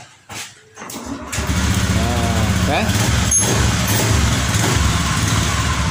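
A motorcycle engine cranks and catches without its two starter relays fitted, then settles into a steady running idle, with someone speaking briefly at the start.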